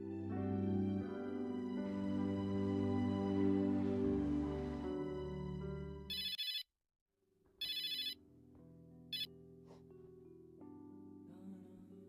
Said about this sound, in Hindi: लैंडलाइन पर कोई फोन आया था तुम्हारे लिए